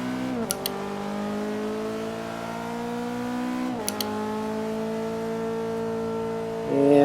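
A race car at the Nürburgring accelerates out of a corner toward Breitscheid, its engine note climbing steadily through the gears with two quick shifts, loud and close and heard alone.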